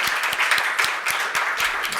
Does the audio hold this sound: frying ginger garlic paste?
no